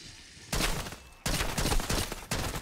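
Bursts of automatic AK rifle fire rattle out in Black Ops 6 Zombies, three rapid strings of shots with brief pauses between, loud and close with no voices.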